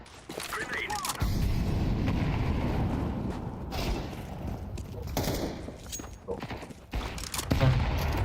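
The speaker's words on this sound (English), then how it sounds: "Grenade out." Grenade blasts and gunfire in Counter-Strike 2, a sudden loud boom followed by sustained rumbling bursts and sharp cracks, with voices talking over parts of it.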